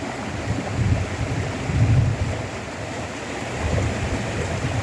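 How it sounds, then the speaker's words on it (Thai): Steady rushing canal stream water fills the scene, a broad continuous flow with gentle surges, close by and without any voices. "สร้างเสียงน้ำไหลเป็นธรรมชาติครับ"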